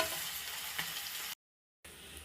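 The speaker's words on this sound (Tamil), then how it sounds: "கீ சூடான உடனே இதில் நம்ம இந்த மசாலாலாம் ஃபிக்ஸ் பண்ணி வச்ச இந்த பன்னீரை இதில் ஒன்று ஒன்று நம்ம சேர்த்துக்கலாம்" Marinated paneer pieces frying in hot ghee, a soft continuous sizzle at low level that cuts out briefly and then resumes, with no talking.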